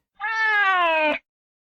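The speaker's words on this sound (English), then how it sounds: "that's a different meow." A cat gives a single clear, drawn-out meow lasting about a second, close and loud, with a slightly falling pitch before silence.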